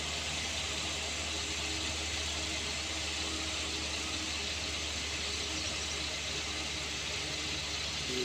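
A truck engine straining steadily under heavy throttle on a steep, extreme uphill climb, a loud continuous drone with no breaks, close and constant throughout.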